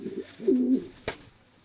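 A steel-coloured pigeon coos softly up close, a low rolling call followed by a brief flutter-like tap.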